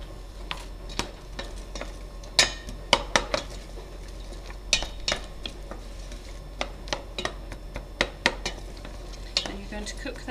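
Garlic and onion cooking in a pan for ratatouille, a low sizzle under repeated sharp clinks and taps of a utensil stirring against the pan, irregular and close.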